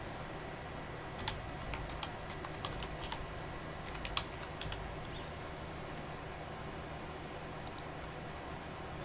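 Keys on a computer keyboard are tapped in short, quiet bursts of clicks over a steady low hum, with no talking.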